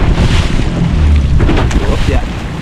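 A fishing boat out for slow-pitch jigging pounds through large waves at sea, a loud rumbling wash of engine, hull slap and water spray with heavy wind buffeting the microphone, continuous and close.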